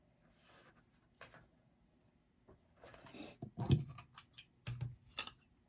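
Scissors snip through elastic for a homemade face mask, a few crisp close cuts coming in quick bursts after quiet handling noises, with no one talking.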